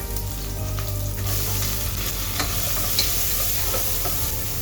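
Onions frying in hot oil with mustard seeds and cumin, a steady close sizzle with light scraping and stirring throughout, no voices.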